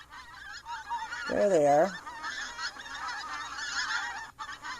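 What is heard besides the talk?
geese honking as they fly by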